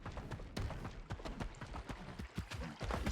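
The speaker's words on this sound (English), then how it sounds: "Oh, I could be riding my horse, couldn't I?" Horse hooves galloping in the Palia game, a rapid, uneven run of sharp clip-clop strikes at close range, steady and loud throughout with no talking.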